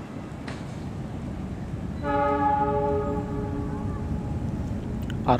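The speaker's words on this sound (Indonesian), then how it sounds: "Argo Parahyangan nih baru datang mau dipersiapkan perjalanan dari stasiun Gambir menuju stasiun Bandung" An Argo Parahyangan passenger train pulls into Gambir station in Jakarta, its horn sounding a long steady blast over the rumble of the moving train, with faint outdoor ambience around it.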